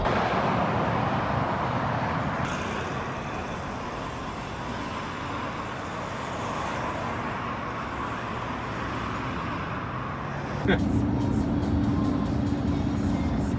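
Steady broadband road rumble from inside a lorry cab on a Swedish highway, continuous and loud with engine drone, shifting to a heavier low hum near the end; no talk.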